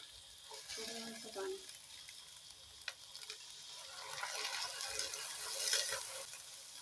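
Ginger garlic paste sizzles and fries in a pan for chicken shorba, steady and continuous, moderately loud, with occasional stirring scrapes and no talking.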